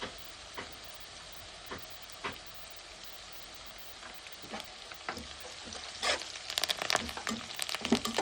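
Curry leaves and chana dal sizzling in hot oil in a pan, a soft steady crackle with scattered pops that grow busier and louder toward the end.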